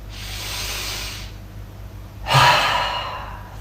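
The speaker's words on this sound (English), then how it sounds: "let's just take 3 breaths here" Deep, slow breaths drawn in and released, ideally through the nose, heard as two long airy rushes, a soft inhale followed by a louder, fuller exhale, close and steady with no talking.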